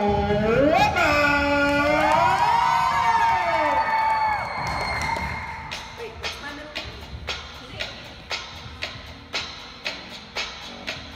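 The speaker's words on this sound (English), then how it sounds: "can I get a round of applause for" Audience at a summer arts performance cheers, whoops and shouts loudly at first, with children's voices prominent, then settles into a run of scattered, rhythmic claps that fade lower toward the end.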